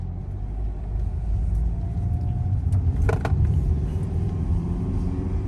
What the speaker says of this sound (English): I hear this strut in the driver's side.